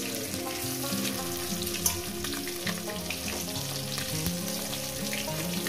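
Katla fish belly pieces fry in hot oil in a pan, giving a dense, continuous sizzle and crackle that stays close and even throughout, with no talking.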